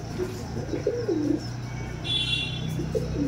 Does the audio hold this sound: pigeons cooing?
yes